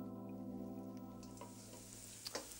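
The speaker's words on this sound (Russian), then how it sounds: "Сейчас я жарю овощи, дающие аромат в оливковом масле, до коричневатого оттенка" Aromatic vegetables, with smoked bacon and carrot, frying in olive oil until lightly browned, giving a steady close sizzle with soft stirring clatter near the end.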